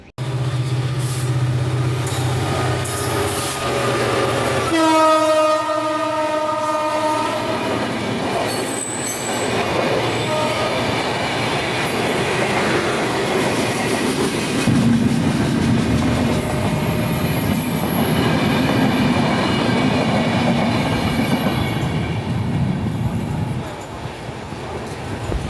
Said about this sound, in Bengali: এইমাত্র ঢাকা থেকে ছেড়ে আসা খুলনাগামী স্পেশাল ট্রেনটি কেরানীগঞ্জ রেলওয়ে স্টেশনের দিকে চলে গেল